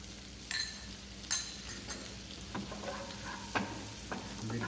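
Chopped celery and garlic sauté in a pan with a soft, steady sizzle, broken by several sharp scrapes and knocks of a stirring utensil against the pan.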